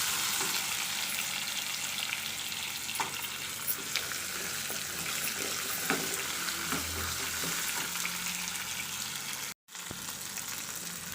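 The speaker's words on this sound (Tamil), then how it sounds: "இப்போ நம்ம வெங்காயத்தையும் போட்டு வதக்கியாச்சு" Small onions sizzle and fry steadily in a pan for mutton gravy, a continuous dense crackle with a few soft stirring clicks and a brief dropout near the end.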